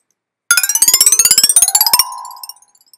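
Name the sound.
scale played on gong sounds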